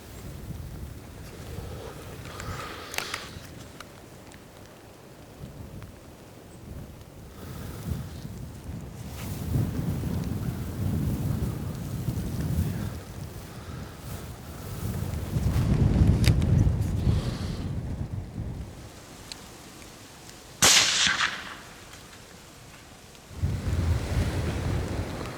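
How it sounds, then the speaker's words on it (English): Strong wind blows across an open field during a deer hunt, roaring in low rumbling gusts that swell and fade, buffeting the microphone with loud surges and brief sharp blasts, no voices. "It's not the distance that's the problem, it's the wind."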